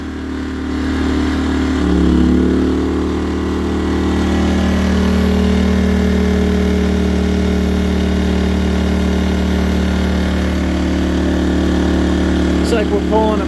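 A Firman 2000-watt inverter generator runs steadily under a 1500-watt heat gun load on its low setting, a constant loud engine drone with a slight pitch shift early on as the load settles.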